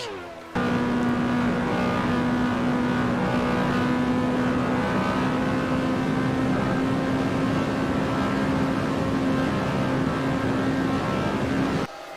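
Race cars from the 1978 USAC season at the Texas Grand Prix in a sim racing game, engines holding a loud, steady high drone with a constant pitch as they run flat out, close and continuous for the whole stretch.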